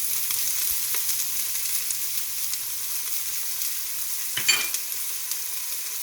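Diced onion and thinly sliced garlic sizzle gently in hot vegetable oil in a pan, a soft steady frying hiss with a brief stir or clink partway through.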